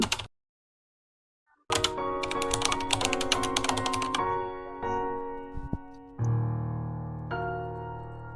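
Clicky keystrokes on a computer keyboard as text is entered, a burst of rapid taps after a short silence, then sparser single presses over a steady background tone.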